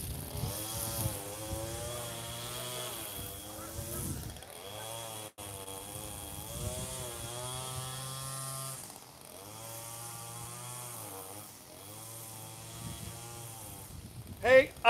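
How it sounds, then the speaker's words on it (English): A loud lawn mower engine runs close by, rising and falling in pitch as it revs and idles, cutting out briefly before starting up again. "All we have to do is have Colton get that lawnmower over here."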